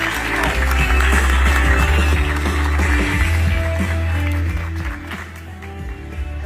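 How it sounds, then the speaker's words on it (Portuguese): A gathering at Rancho do Maia gives Kaká a round of applause, steady dense clapping that runs over loud bass-heavy music the whole time. "Salve de palmas, Cacá, de com a gente na bolha"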